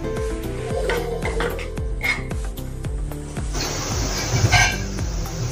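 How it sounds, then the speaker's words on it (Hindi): Kasuri methi being stirred into samosa potato filling in a pan, with a steady run of spoon scrapes and knocks against the metal pan, close and moderately loud, with no talking. "अभी इसमें हम कसूरी मेथी डालेंगे और अच्छे से मिक्स करेंगे।"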